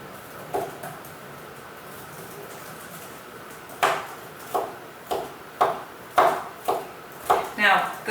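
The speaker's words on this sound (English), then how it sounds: "the recipe calls for the garlic to be minced" Garlic being minced with a knife on a cutting board in a home kitchen, sparse single chops at first and then a quicker run of sharp, close knocks over a quiet background.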